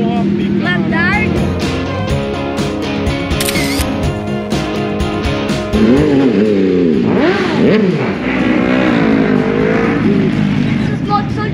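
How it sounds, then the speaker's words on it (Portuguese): A custom trike motorcycle built around a car engine revs at a Spider-Man themed motorcycle meet, its loud, rising engine note running throughout with a sharp surge near the middle, mixed with crowd noise and nearby voices talking. "Essas motos aqui, eles pegam o motor de carro e fazem elas."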